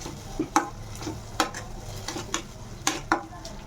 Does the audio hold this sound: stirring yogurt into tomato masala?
yes